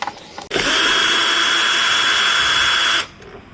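A power tool, likely a drill, whirs steadily for about two and a half seconds while unfastening a mirror bolt on a Yamaha R15 V3 motorcycle, starting abruptly and cutting off cleanly, loud and close.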